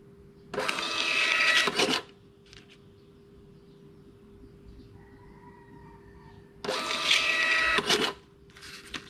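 A T80Q 80mm thermal receipt printer prints a test receipt in two loud mechanical bursts of about a second and a half each, separated by a quieter pause with a faint whine.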